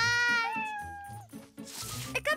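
Cartoon cat meows several times in quick succession, loud and close, with high-pitched wavering cries and a final hissing, strained yowl.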